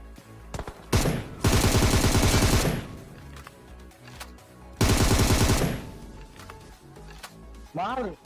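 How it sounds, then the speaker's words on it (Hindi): M249 machine gun fire in PUBG, heard as two long loud sustained bursts of rapid automatic fire with scattered single shots and other game noises between them. "लेकिन यहाँ पे M249 से बहुत गलत ही फटके पड़ते हैं।"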